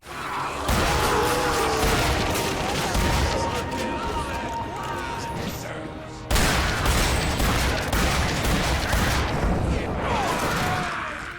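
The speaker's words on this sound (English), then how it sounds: "if you can muscle memory it to the point where you're properly active pumping every shot, you can nearly triple the fire rate of the shotgun" Pump-action shotgun fired rapidly in The Darkness 2, a continuous barrage of loud gunfire and booms with game effects filling the whole stretch, briefly dipping before resuming.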